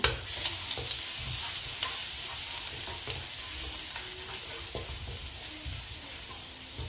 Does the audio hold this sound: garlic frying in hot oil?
yes